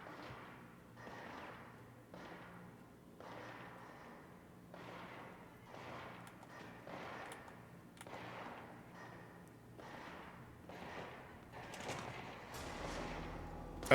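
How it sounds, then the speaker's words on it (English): Rapid, muffled bursts of gunfire in the video game Control repeat in a steady rhythm over a low droning background, fairly faint and continuing throughout. "Does that sound like gunfire?"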